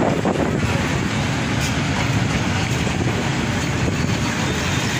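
A train pulling away from Chandpur railway station after an engine change, heard as a loud, steady rumble and rattle of rolling stock that fills the whole stretch without pause.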